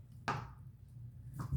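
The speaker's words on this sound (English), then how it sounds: "I'm gonna let you see what I'm doing here as I'm chopping up the chicken here." A knife chops raw chicken on a board in a home kitchen, two sharp, close thuds about a second apart over a low background hum, with no speech.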